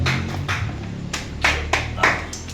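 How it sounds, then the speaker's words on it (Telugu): A few people clap their hands at a Bonalu festival gathering, the claps coming in scattered loose bursts over a steady low hum, fairly close and moderately loud. "చప్పట్లు కొట్టండి"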